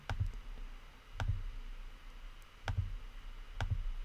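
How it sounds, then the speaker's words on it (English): Computer mouse clicks during Photoshop work come in sharp, close, quiet pairs, four double-clicks spaced about a second apart over a faint background hiss. "Again, just still clicking."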